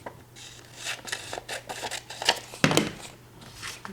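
Scissors snip through a paper journal insert in a quick series of close, crisp cuts with soft rustling of paper between them, ending in a louder final snip.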